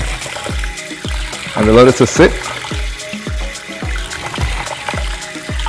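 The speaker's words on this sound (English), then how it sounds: "now we're going to pour this off" Rinse water is poured off soaking basmati rice, a trickling pour that runs under a person talking.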